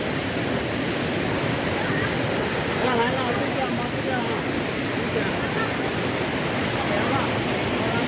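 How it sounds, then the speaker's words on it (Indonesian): Fast-flowing river rapids at Riam Solang Senakin in Kabupaten Landak roar in a steady, loud, broadband rush that continues unbroken throughout, close and dense like a waterfall. "Wah, ini deras arusnya."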